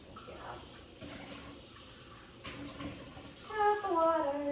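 Water from a kitchen tap runs into a cup, starting soft and then rising to a brighter, louder pour and splash near the end.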